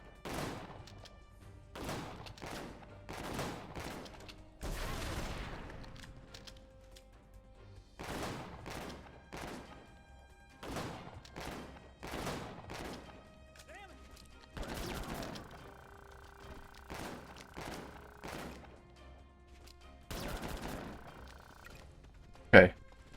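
Repeated gunshots in the video game Disaster: Day of Crisis, sharp bursts coming in irregular clusters across the stretch, with a voice talking intermittently between the shots.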